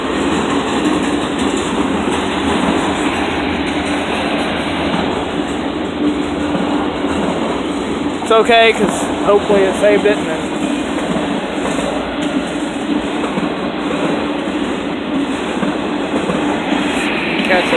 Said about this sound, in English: It's a CSX3124 freight train going through Altamont,